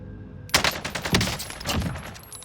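A Cold War AK-47 fires in Warzone, a rapid burst of heavy automatic shots after a brief quiet start, loud and close, with rattling echoes trailing off.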